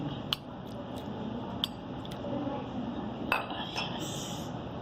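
A metal spoon clinks sharply several times against a container while soy sauce is measured in, the bright taps spaced about a second apart over a soft background murmur.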